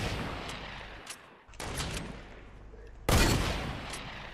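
Gunshots in Fortnite, with sharp cracks and a loud close blast near the end over a noisy game background.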